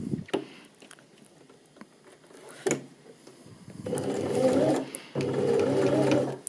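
A sewing machine stitches a thumb hole cuff on a sweatshirt in short bursts. Light clicks and taps from needle positioning come first, then two longer, louder whirring runs of rapid stitching close to the microphone.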